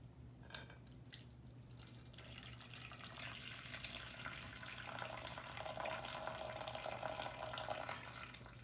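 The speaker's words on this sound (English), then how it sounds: "I'm going to take the ramen noodles out, and then I am going to drain the noodles" Water draining from a bowl of microwaved ramen noodles into a sink, a faint steady trickle and splashing stream with some dripping, continuous and fairly quiet, with no talking.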